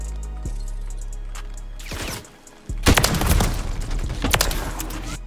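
Rapid gunfire from a Call of Duty match crackles in loud bursts, a single shot early, then dense automatic volleys after a short pause, with almost no talk.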